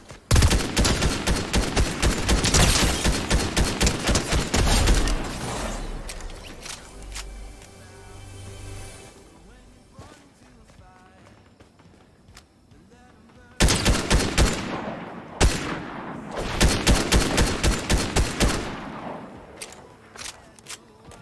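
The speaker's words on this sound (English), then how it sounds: "I think I'm getting shot at." Rapid bursts of automatic gunfire in Fortnite, loud and close, fire for about five seconds, fade to quieter clatter, then resume in two more heavy volleys after a pause, with occasional game noise between.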